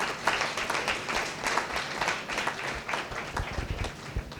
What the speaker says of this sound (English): Can you all please give them another round of applause?